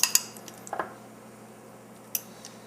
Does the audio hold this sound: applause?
no